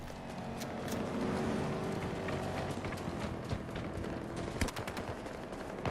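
Battlefield 2042 gunfire on the Exodus map in Conquest mode sounds as a steady patter of shots with sharper cracks near the end, over a constant busy background of battle noise.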